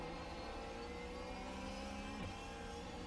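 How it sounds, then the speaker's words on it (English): A steady race car engine drone from the iRacing video game, with a constant whirring tone, moderately loud and unbroken, with no voices. "the engine itself sounds quite nice"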